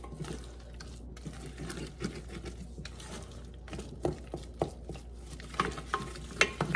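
A spoon or whisk stirs a whole egg into thick cream puff batter, giving soft wet slaps and clicks that grow more frequent and sharper toward the end, close by with no talking.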